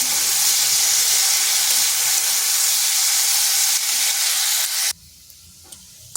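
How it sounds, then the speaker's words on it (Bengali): Potatoes seasoned with a little salt and turmeric fry in hot oil with a dense, loud, continuous sizzle and hiss. It cuts off sharply near the end, leaving faint room tone and a few small knocks. "সামান্য লবণ আর সামান্য হলুদ। আলুটাকে একটু লাল লাল করে ভেজে নেব।"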